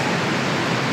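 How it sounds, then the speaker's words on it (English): Rushing water from a waterfall in George Crosby Manitou State Park makes a dense, steady roar of broadband noise, close and continuous for a brief moment. "last waterfall for the day"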